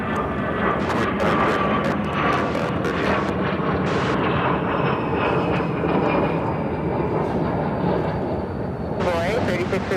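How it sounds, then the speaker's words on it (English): An Aer Lingus Airbus A330 airliner lands at Chicago O'Hare, its engines producing a continuous loud rumbling roar throughout, with speech heard over the engine noise. "Aer Lingus A330 coming up from Dublin."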